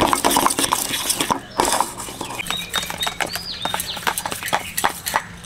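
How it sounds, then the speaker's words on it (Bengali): Ground cumin, chili and black pepper being beaten into yogurt in a bowl for broiler chicken do pyaza, a spoon clicking and scraping against the bowl in quick, uneven strokes, close and fairly loud. "ভালো করে ফাটিয়ে নিচ্ছি দইয়ের সাথে।"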